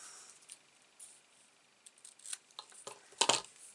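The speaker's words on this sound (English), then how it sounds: "With my scissors." Scissors snipping a strip of paper for a stamped baby-themed mini album craft: a few quiet, sparse crisp cuts, faint and close, ending in a louder cluster of snips.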